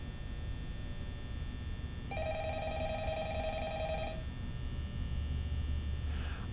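A telephone rings in the horror video game Five Nights at Freddy's, a steady electronic trill lasting about two seconds over constant low hum and background noise.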